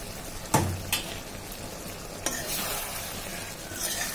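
Jackfruit curry with garam masala being stirred in a pan on a new gas stove, a few clear scrapes and clinks of the spoon against the pan over a steady soft sizzle.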